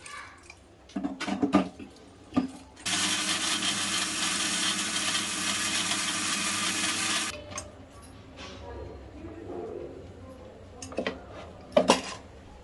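A kitchen mixer grinding dry coconut into spice powder, running in one loud, steady whir of roughly four seconds, framed by clinks and handling noises before and after.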